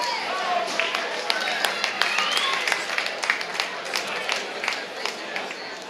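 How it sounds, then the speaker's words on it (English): An audience at a Toe2Toe combat fight event claps and cheers for both fighters, steady crowd applause with scattered sharp claps throughout, fairly close and lively. "ladies and gentlemen, applause for both fighters"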